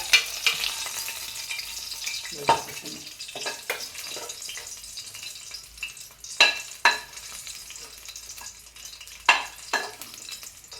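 Green chillies fry in a pan, sizzling steadily with repeated stirring scrapes and clatters of a spoon against the pan.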